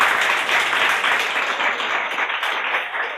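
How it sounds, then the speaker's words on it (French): Steady, dense applause from a live audience at a sports showcase event, honoring the athlete Konaté; loud and continuous throughout, with no clear voices above it. "on applaudit pour lui"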